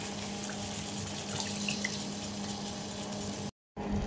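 Hot water, about half a liter, poured into a cooking pot of pork pata with soy sauce and vinegar, a steady splashing pour that cuts off near the end.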